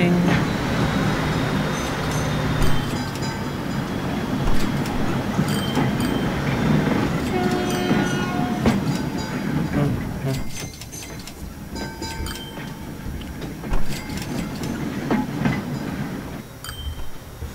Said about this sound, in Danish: vi kører lige lidt med sporvogn.